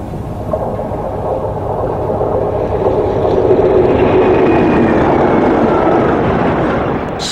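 A pair of Class 37 diesel locomotives, 37682 and 37194, haul a northbound spent nuclear fuel rod train past at Coley, a steady loud rumble that swells and fades as the train rolls by.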